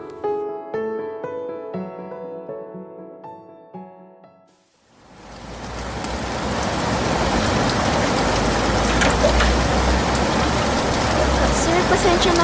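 Heavy rain pours down in a dense, constant hiss that swells in after a short passage of soft music and keeps going strongly to the end.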